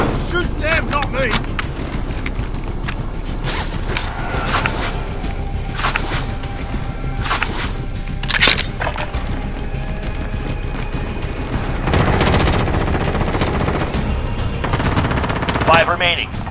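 Dense Call of Duty Warzone gunfire from a team battle royale match, rapid automatic bursts and sharp shots sounding almost continuously, with a few louder close cracks and people talking over the shooting.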